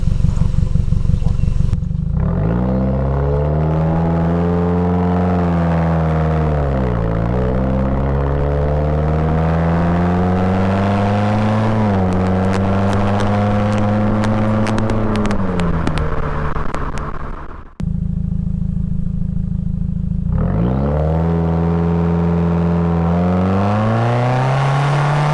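A 2019 Subaru WRX fitted with a Remark Stealth Edition axleback exhaust revs and accelerates loudly through gears, its rising engine note climbing with brief dips between shifts, cutting out near the end, then pulling hard again.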